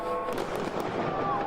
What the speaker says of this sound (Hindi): इतने पटाखे चला दिए